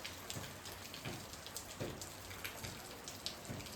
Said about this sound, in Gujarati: હજી વરસાદ ચાલુ છે જો